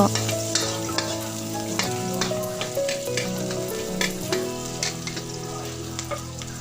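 Sliced shallots fry in hot oil in a wok for a Northern Thai stir-fry with eggs: a continuous close sizzle with crackles and occasional spatula scrapes, no talking.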